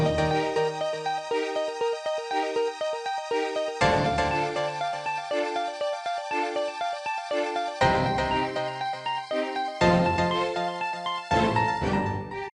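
Doom MIDI music plays an ocarina-style lead melody over electric piano chords and soft string pads, with the chord changes recurring every few seconds and no voices.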